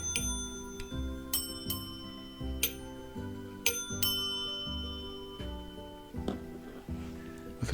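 Two cleaned and polished bells on an antique Ericsson telephone from around 1892–1930 ring in a quick, steady series of bright metallic strikes. They sound close and alone, each strike leaving a shimmering ring.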